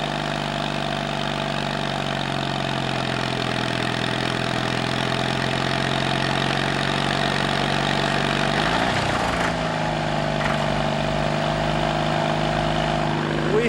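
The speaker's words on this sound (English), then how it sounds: "Now it's turning the big engine over." Small two-cylinder gasoline pony motor cranking over a large engine: a steady, loud mechanical drone with a continuous throbbing hum, shifting in pitch near the end as the load changes.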